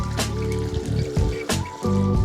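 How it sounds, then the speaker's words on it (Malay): Brewed tea poured back into a bowl makes a close, steady trickle with splashing and a few brief breaks in the flow, fairly loud and with no voices. "masukkan air teh yang dah di brew tadi, masukkan semula dalam"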